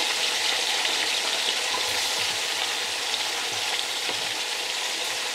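Meat with ginger, garlic and onion frying in a hot pan: a loud, constant sizzle with occasional scraping stirs and light clinks, no talking.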